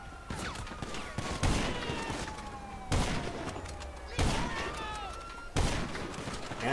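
Heavy gunshots in the video game GTA Online, a handful of loud reports spaced a second or two apart with ringing tails, and a voice talks faintly underneath.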